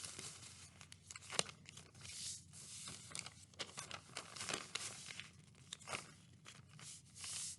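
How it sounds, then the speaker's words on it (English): Newspaper being accordion-folded for a craft gives faint, close paper crinkles, creases and rustling scrapes in irregular bursts, with no talking. "Keep going with your accordion folding."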